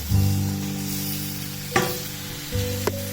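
Vegetables fry slowly in oil over low heat for vegetable mandi rice, giving a steady soft sizzle under a constant droning hum, with a couple of sharp clinks near the pan.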